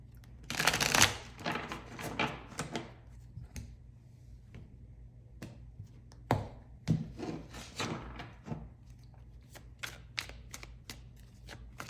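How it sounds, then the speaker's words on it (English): Tarot cards being shuffled and handled up close, a flurry of riffling at first, then scattered soft taps and slaps at irregular intervals, quiet and without talk. "let me just pull some cards to see how this person feels about you, or like how this situation is"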